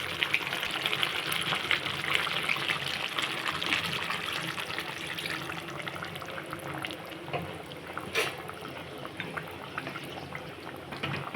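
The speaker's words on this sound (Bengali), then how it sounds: "সামান্য একটু জল দিয়ে দেবো" A small amount of water poured into a pot of chicken cooking with papaya and whole green chillies, giving a steady soft gush and splash that runs at an even level throughout.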